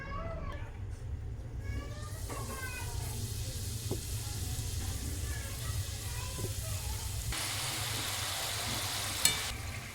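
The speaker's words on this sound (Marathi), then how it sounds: "आता आपण खोबऱ्याच्या करंजा तळून घेऊयात" Coconut-filled karanji frying in hot oil, a steady low sizzle and bubbling throughout, with light clinks and a brighter burst of hissing near the end.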